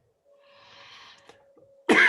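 A single person gives a short, sharp, loud cough at close range in a quiet indoor room, right after a soft breathy throat sound.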